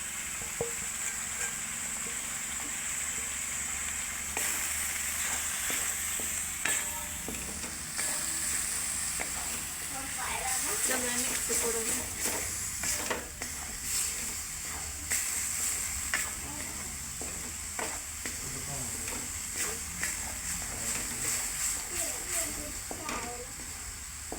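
Homemade and Maggi masala with turmeric roasting and frying in hot oil, a steady close sizzle with occasional stirring scrapes throughout, while a person talks over it.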